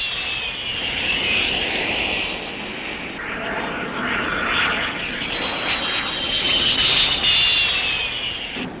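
A 1950s US Air Force fixed-wing airplane flying a spin test demonstration: a loud, sustained engine drone with a high whine that rises and falls in waves as the aircraft maneuvers, heard alone.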